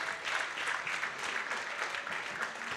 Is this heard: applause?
yes